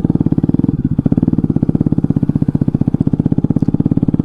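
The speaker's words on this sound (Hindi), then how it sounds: "आपके सामने अभी लाइव एग्जॉस्ट खुल गया लूज होके, ठीक है, बाइक बहुत ही ज़्यादा साउंड कर रहा है।" A Bajaj Pulsar RS 200 motorcycle with a loose exhaust runs loud and close, its engine firing in a rapid, even, throbbing pulse throughout, with no voices over it.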